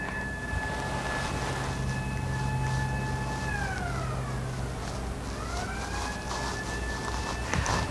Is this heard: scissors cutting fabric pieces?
no